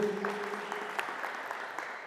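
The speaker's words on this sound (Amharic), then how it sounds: "አጨብጭቡልኝ" A crowd applauds steadily at a prize-giving event in Ethiopia where a 10-horsepower tractor is awarded, a dense, even patter of many hands clapping for about two seconds with no speech over it.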